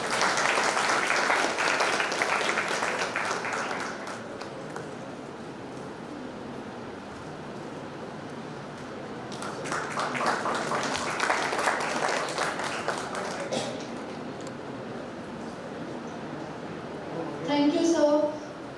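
An audience at a valedictory function applauds a felicitation on stage, with two bursts of clapping separated by a quieter stretch of room noise and a brief loud sound at the close.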